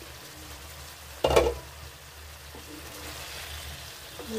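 Potato and cauliflower sabzi fries in oil in a pan with a soft, quiet sizzle, broken early by one brief louder clatter before settling back to a low steady hiss.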